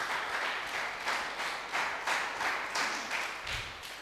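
Congregation at a church worship service clapping together in a loud, steady rhythmic beat, a dense wash of hand claps sustained throughout with no talking.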